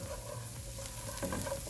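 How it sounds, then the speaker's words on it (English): Onions and garlic frying over low heat in a pan for a currywurst sauce, stirred with a utensil: a constant close sizzle with light scraping strokes throughout. "We'll give this a quick stir."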